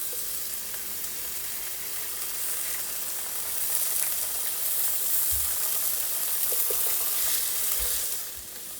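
An egg sizzles and fries steadily in a hot pan while vegetable fried rice is being made, a continuous close hiss with a few soft taps and scrapes, and no talking.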